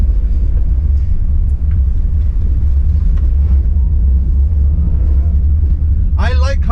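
A 2018 Perodua Axia 1.0 hums along with a low, steady engine drone heard from inside the cabin, constant throughout, with a brief voice near the end.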